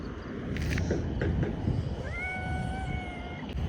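A cat gives one long, drawn-out meow partway through, close and clear over a steady outdoor background rumble; no one speaks.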